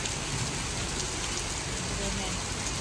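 Heavy, steady rain beside Brunnensee lake on a very rainy day, a dense continuous hiss of downpour with no breaks, loud and close throughout.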